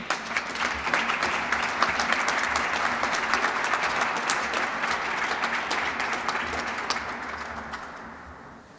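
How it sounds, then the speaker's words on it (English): Cheerleaders and a crowd at a college transfer event burst into sustained applause and cheering, dense clapping that holds steady and then tapers off toward the end. "Cheerleaders, come on up and cheer us out."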